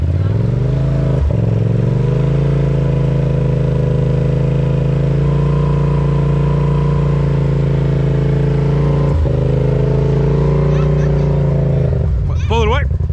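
An ATV engine drones loudly while stuck at an off-road park, holding a steady revving hum with brief dips and a sharper rev near the end, and people talk over it.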